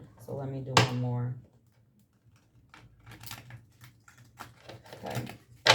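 Tarot cards being shuffled, with soft papery riffles and clicks that are fairly quiet and close, preceded by a brief vocal sound at the start.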